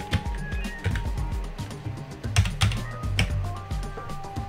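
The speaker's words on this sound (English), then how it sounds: "So I've typed in hello" Rapid clicking of keys on a computer keyboard while text is entered into a Windows 10 Paint text box, an uneven run of close, crisp taps with no talking.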